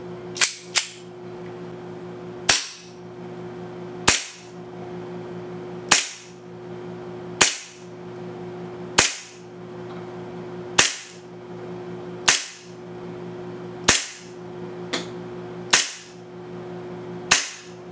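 A Tokyo Marui Hi-Capa 5.1 Rebel Edition airsoft pistol fires 0.25 gram BBs in about a dozen sharp, loud, close single shots spaced one to two seconds apart, each followed by a quick snap, over a faint steady hum.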